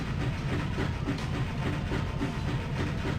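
A train in the video game MediEvil rumbles steadily with a low, continuous rolling drone and faint rhythmic clatter, filling the whole stretch at a constant level with no talking.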